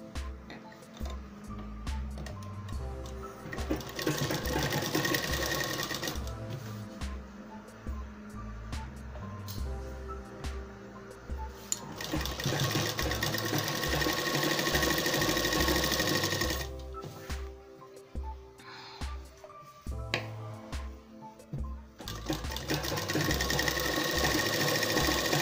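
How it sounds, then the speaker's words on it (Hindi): An electric sewing machine runs in long bursts, stitching the middle seam of a pair of shorts, its rapid needle chatter loud and close with brief pauses between runs. "ये बीच की सिलाई लगा देंगे अब"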